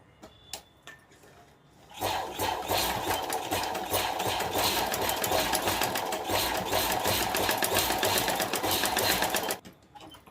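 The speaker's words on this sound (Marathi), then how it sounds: "आता आपण टिपा मारून घ्यायचे आहेत" A sewing machine runs steadily for about eight seconds while stitching a small homemade purse, a close, fast, continuous rattling hum that starts and stops abruptly.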